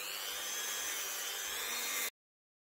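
Sanding around the seal area of an axle differential during seal replacement and cosmetic refurbishment: a steady, close, even abrasive rasp that holds for about two seconds and then cuts off abruptly.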